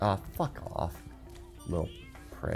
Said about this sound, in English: Is that the Cowlix making that weird, like, cat-like noise?